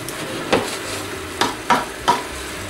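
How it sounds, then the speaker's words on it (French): Zucchini with ginger and garlic roast over high heat in a pan, a steady close sizzle broken by a few sharp scraping stirs of a utensil, with no talking. "on va laisser rôtir un petit peu nos courgettes"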